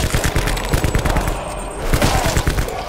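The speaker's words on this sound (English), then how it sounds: "Why do I hate shooting these tigers?" Sustained rapid gunfire from Black Ops 4 as tigers are shot at, loud and close, a dense stream of automatic shots with thumping low impacts running throughout.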